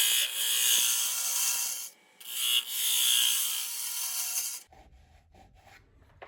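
A wood turning tool cuts around the curve of a spinning bowl on a lathe at a woodturners' club demonstration, giving a steady, close, rasping scrape that pauses briefly, resumes, then cuts off, leaving quiet.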